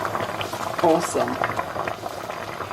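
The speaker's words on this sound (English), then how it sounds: "I'm now going to add hot water" Hot water poured from a kettle into a one-pot rice meal, giving a steady bubbling, boiling wash throughout, with a brief spoken word over it.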